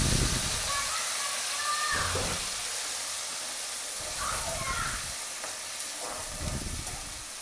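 Onions hit a hot pan for a Sylheti snakehead fish curry, giving off a loud, constant sizzle and hiss broken by a few stirring scrapes, while a voice talks faintly now and then.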